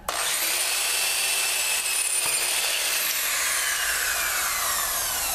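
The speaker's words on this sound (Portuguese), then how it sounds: "aqui eu estou com as duas telas já marcadas, furadeira na mão, broca presa. Agora é só a gente fazer os furos finalmente." An electric drill bores holes into wooden screen printing frames, a loud continuous whining grind held steady for several seconds, close by and without talk.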